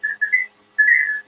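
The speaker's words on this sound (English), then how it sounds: "Do you guys hear a whistling sound?" Odd high whistling tones in the background, three short whistles followed by a longer sustained one, fairly clear with no talking over them.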